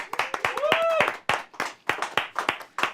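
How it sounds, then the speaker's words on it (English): A short burst of clapping from a small group, sharp uneven claps for about three seconds with a voice talking over them. "give him a round of applause"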